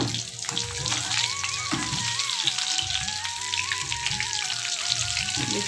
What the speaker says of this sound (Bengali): আলুটা সিদ্ধ করে ভাজা হচ্ছে